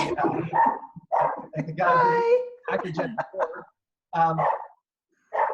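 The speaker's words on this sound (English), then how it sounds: "That's my dog barking" Dog barking indoors during a conversation, with a few short yips and barks mixed in among ongoing speech from a person talking close by.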